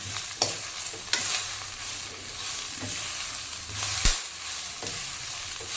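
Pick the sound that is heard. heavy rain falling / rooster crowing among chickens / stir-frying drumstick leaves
stir-frying drumstick leaves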